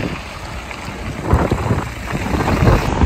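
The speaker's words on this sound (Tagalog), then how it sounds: "Napakalakas po ng hangin." Strong wind buffets the microphone in loud, rumbling gusts that swell and fade over a few seconds.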